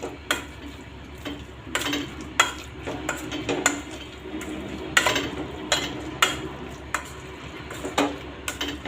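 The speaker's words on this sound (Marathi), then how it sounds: "आता आपण स्मॅशरनी ते चांगलं स्मॅश करून घेऊ" Repeated soft thuds and metallic clinks as a masher presses into a pot of cooked lentils, irregular strokes over a low background hum.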